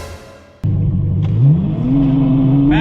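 A Ferrari F12 or Lamborghini Aventador launches at a drag race start: quiet background, then a sudden loud engine roar that climbs steadily in pitch as the car accelerates hard, close and dominant.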